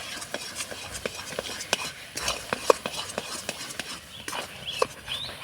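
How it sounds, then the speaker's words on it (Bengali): A spoon stirs ground spices and cumin powder into a raw mango candy mixture in a pan, making a run of sharp, repeated clicks and scrapes over a low sizzle-like hiss. "খুব ভালো করে একটু নাড়াচাড়া করে মিশিয়ে নেব"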